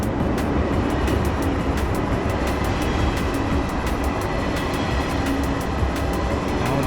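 A Korean train rolls into the platform with a steady, loud rumble and rhythmic clicking of wheels over rail joints, continuous and close with no voices.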